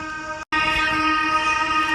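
A cartoon steam engine brakes with a loud, sustained metallic screech full of steady whistling tones, cut by a brief gap before squealing on.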